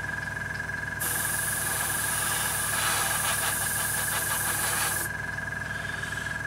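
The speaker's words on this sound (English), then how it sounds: "Once this compressor actually wants to stop." An airbrush compressor runs with a steady hum and a bright, constant hiss that cuts out abruptly about a second before the end, leaving a quieter background drone.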